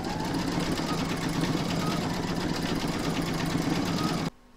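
An in-the-hoop embroidery machine quilts across the heel of a vintage witch's boot, making a continuous fast stitching whir with a rhythmic mechanical pulse, loud and steady until it cuts off abruptly near the end.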